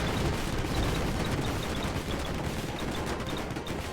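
Bombs exploding in the airship battle game Airships: Conquer the Skies, a dense continuous barrage of booms and crackling gunfire-like blasts, loud and unbroken throughout with faint repeating high tones above.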